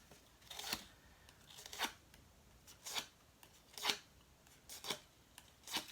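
Paper card being creased with a bone folder, a run of brisk scraping, rustling strokes repeated about every second, close and fairly quiet, with no voices.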